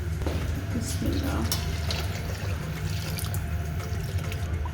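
Steady trickling and splashing of water running into a cooking pot of chicken for pulao, continuous and close, with faint background noise throughout.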